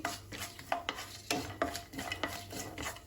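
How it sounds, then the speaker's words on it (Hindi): Whole spices, cumin, mace, cloves and bay leaf, being stirred and roasted in a pan for Hyderabadi paneer, with repeated scraping and clinking strokes of a spoon against the pan and a faint sizzle, close and fairly quiet. "इन सबको अच्छे से भून लेंगे और ध्यान रहे ये जले नहीं।"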